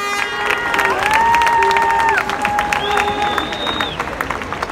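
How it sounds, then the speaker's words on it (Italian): Audience applause and cheering at a gathering for therapeutic freedom of choice, dense and steady under a high tonal whistle or feedback line, with crowd voices mixed in throughout. "facciamo un applauso"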